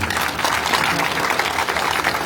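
Crowd applause at a village welcome gathering, dense continuous clapping close by and loud throughout, with a voice faintly beneath.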